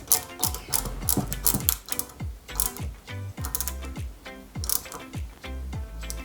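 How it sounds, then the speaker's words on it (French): A small screw is driven into the headlight of a 1/8-scale Mercedes-Benz 300 SL model kit, with a run of quick, irregular plastic clicks and taps from close by. "on prend une vis OP que l'on fixe directement sur l'optique"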